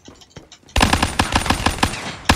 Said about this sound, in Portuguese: Tô dando tiro nos caras, não tá acertando